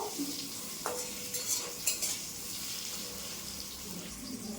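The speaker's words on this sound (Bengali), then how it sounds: "আমটা দিয়ে 1 মিনিট নেড়ে নেবো" Mango pieces are stirred into a frying fish and potato curry in a pan, producing soft sizzling and quiet scraping with a few small clinks, faint and close.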